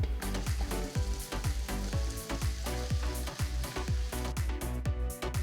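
Thinly sliced onions sizzle steadily in a hot pressure cooker pot for mutton curry, with repeated rhythmic scraping strokes of stirring throughout.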